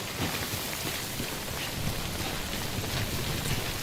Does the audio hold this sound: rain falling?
yes